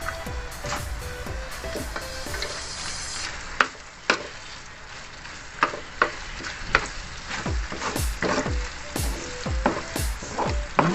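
Pork lechon sisig with egg frying in a hot pan, a steady close sizzle punctuated by repeated sharp scrapes and taps of a spatula stirring, with no talking.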